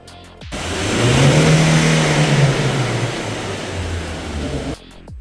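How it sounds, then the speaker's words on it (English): A car engine revs up loudly during a roadworthiness inspection (ITV) in Spain, pitch rising then settling into a steady roar before cutting off abruptly near the end. "a few more pressing buttons and checking things, and revving the engine"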